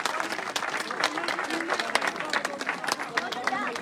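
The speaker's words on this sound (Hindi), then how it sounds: "जोरदार तालियों से अभिनंदन करें" A crowd at a village political rally in Chirani applauds to welcome a leader, with dense, sustained clapping at close range and a murmur of voices mixed into the noise.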